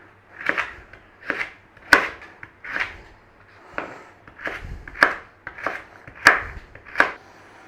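Vegetables such as carrot being prepped for a red wine jus, about a dozen crisp knife knocks against a cutting board at an uneven, unhurried pace, close and fairly clear, with no talk.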